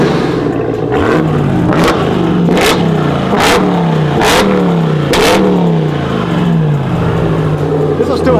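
Engine of a Chevrolet SS clone truck revved repeatedly, about six sharp blips rising and falling over a steady idle, loud and close, with people talking in the background.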